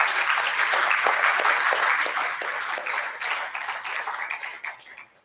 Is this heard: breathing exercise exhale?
no